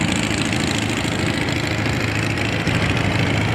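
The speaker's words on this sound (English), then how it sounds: "Here we have another Avery tractor." A 1950 BF Avery tractor engine runs at a historical engine show, a loud, steady, close-up rumbling idle with even mechanical knocking throughout and no talk.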